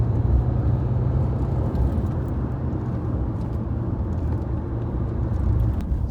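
Nissan Juke diesel car on the move, heard from inside: a steady low engine rumble and road drone, fairly loud and unbroken throughout, with light rattles above it and no talk.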